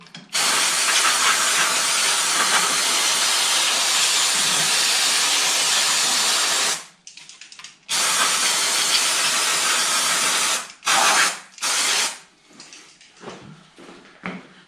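Brake cleaner sprayed from an aerosol can onto a motorcycle engine, a loud steady hiss lasting several seconds, then a series of shorter bursts separated by brief pauses.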